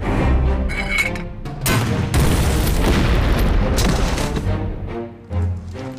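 A mortar round fired from a hillside position against Japanese forces in a wartime battle scene, heard as loud booming blasts and rumbling explosions filling the whole stretch, with dense crackling debris and no clear pauses.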